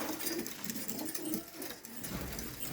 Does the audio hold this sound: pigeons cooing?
yes